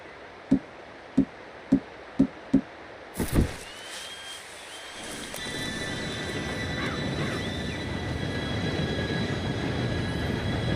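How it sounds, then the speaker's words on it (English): A train arrives in Red Dead Redemption 2. Five evenly spaced sharp knocks and a heavier clank come first, then a low rumble swells while wheels squeal and screech in drawn-out metallic tones as the train draws near. "Train should be here any minute now."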